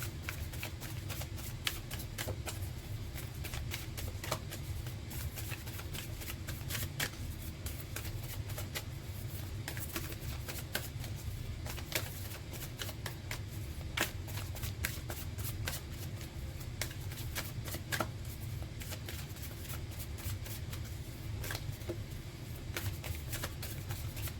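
A tarot deck is shuffled continuously for over twenty seconds, a dense steady riffling patter of card edges heard close up over a low background hum.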